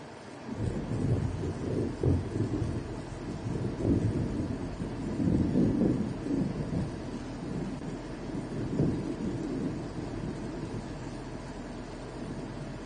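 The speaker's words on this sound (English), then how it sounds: "This is some incredible thunder, some of the best I've ever heard." Thunder rolls through a Wisconsin thunderstorm as a continuous deep, loud rumble that swells and fades, with wind buffeting underneath and no voices.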